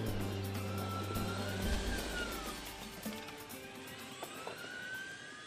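A Polaris Ranger EV electric UTV with all-wheel drive drives over rough off-road terrain at a manufacturer's test facility, a continuous rumble of tires, suspension and wind with a faint motor whine, moderately loud throughout.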